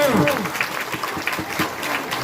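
A church congregation claps hands in a dense, continuous burst of applause that fills the room, with voices mixed faintly underneath.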